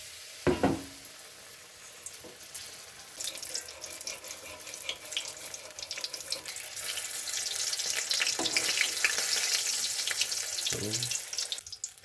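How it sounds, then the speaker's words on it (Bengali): Battered green chili chops frying in hot oil in a wok, a steady sizzling hiss that builds louder as the pieces cook, with a few sharp knocks and scrapes from a utensil. "এখন আমি এই লঙ্কার চপগুলো ভেজে নেব"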